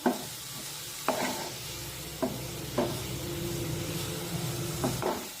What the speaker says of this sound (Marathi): बेसन पीठ मिश्रणामध्ये व्यवस्थित मिक्स करून घ्यायचं छानपैकी परतून घ्यायचं